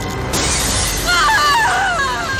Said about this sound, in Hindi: शीशा टूट जाता है और अंदर से निकलता है बहुत सारा पानी।